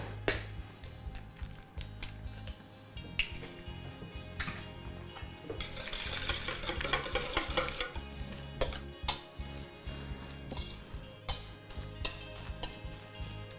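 Egg is beaten into a zucchini, feta, dill and mint fritter batter in a bowl, heard as close, uneven scraping and clinking strokes with a louder, rushing burst of fast whisking in the middle.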